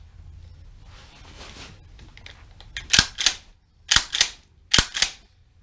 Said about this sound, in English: Most people understand the sound of a shotgun chambering